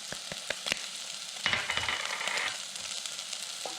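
Spices sizzling as they bloom in a hot pot for Afghan shorwa soup, a steady bright frying hiss with a few sharp clicks and stirring scrapes, swelling louder midway then settling back.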